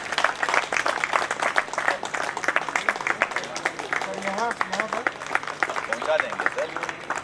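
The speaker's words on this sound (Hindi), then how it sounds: "तालियां बजाओ" Applause from a group at a farewell function after a bouquet is presented, steady clapping running throughout under overlapping talk and voices.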